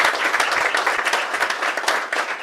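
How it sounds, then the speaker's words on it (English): An audience at a history colloquium applauds a speaker being introduced, dense continuous clapping from many hands, fairly close and loud throughout. "Let's give him a round of applause right away."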